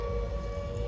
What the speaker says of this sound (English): Then the sirens come in.